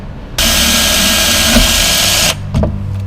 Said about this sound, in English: Okay, so step 1, drill the hole.